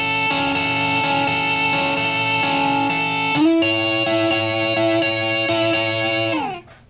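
An electric guitar plays through a Marshall JTM45 bright-channel amp model on a Line 6 Helix, with ringing sustained chords that change midway and then decay away, close and fairly loud with no talking.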